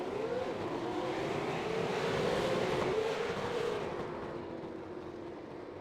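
V8 Supercars race cars rev and accelerate off the grid at a race start, a swelling roar of engines with rising pitch that holds, then fades slightly, heard at a moderate distance.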